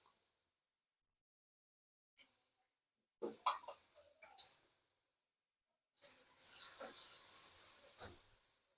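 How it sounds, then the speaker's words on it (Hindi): Carrots are dropped into hot oil in a pan for black pepper chicken fried rice, giving a soft hiss that breaks into clear sizzling, with brief utensil clatter before the frying builds. "अब पहले हम गाजरें डालेंगे। गाजरों को थोड़ा सा फ्राई करेंगे"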